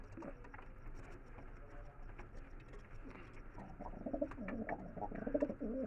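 Pigeons coo softly and intermittently at a winter bird market, with low murmuring cage and crowd noise around them and the coos growing louder near the end.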